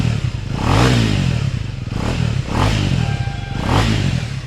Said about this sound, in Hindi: बाकी अगर मैं इंजन साउंड की बात करूँ तो आपको मैं इंजन का साउंड सुना देता हूँ।